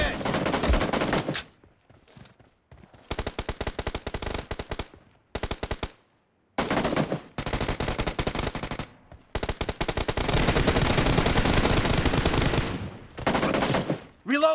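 Rapid automatic gunfire from the mobile shooter game BGMI in a team deathmatch, with loud sustained bursts separated by short silences and a long continuous stream near the end, plus occasional game voice callouts.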